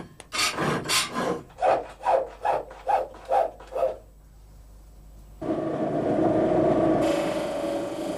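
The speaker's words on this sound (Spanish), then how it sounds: "El bruñidor es un triángulo acerado que se utiliza para abrillantar y pulir los rincones que" A hand-finishing tool on a knife, a steel triangular burnisher polishing corners, gives eight loud, rhythmic rasping strokes close up, followed by near silence and then a steady grinding whir.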